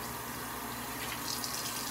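Water trickles steadily onto a dry shaving soap to wet it, a continuous close wash of liquid with no voices.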